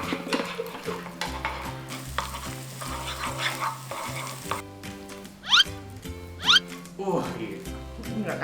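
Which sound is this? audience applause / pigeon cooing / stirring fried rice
stirring fried rice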